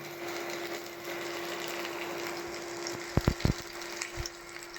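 Ground spices fry in a pan with a soft, steady sizzle under a low hum. Near the end come a few sharp scraping knocks as the mixture is stirred.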